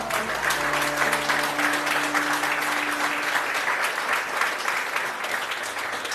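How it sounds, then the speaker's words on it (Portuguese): A church congregation at a celebration service applauds, dense continuous clapping from many people that stays even and full, with a faint sustained tone beneath it early on. "Aplauda o Senhor."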